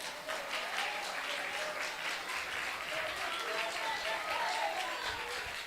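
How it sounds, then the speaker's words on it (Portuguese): A church congregation applauds with dense, steady clapping throughout, and a voice speaks over part of it. "Louva a Deus com mais palmas,"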